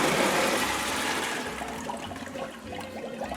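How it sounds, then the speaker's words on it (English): Soaking water poured off pinto beans in a home kitchen, then the beans rinsed: a steady, close rush and splash of water running continuously, easing slightly toward the end. "I'm going to pour the water off and rinse these off again."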